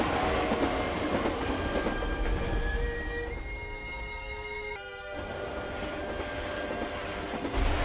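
A train rolls past in an anime episode, a steady loud rumble of wheels and carriages with rhythmic clatter, a shifting tone midway as the cars go by, and no talking over it.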